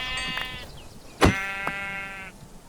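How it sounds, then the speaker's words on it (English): Two sheep bleats in Minecraft, each a wavering, drawn-out cry, with a short sharp thump between them, heard close and clear with no talking. "Let me find some sheep."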